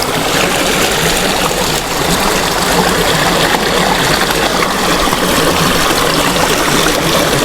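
Water flowing in a stream fed from a lake along a mountain-bike trail, a loud, close, continuous rush and trickle that fills the whole stretch with no voices.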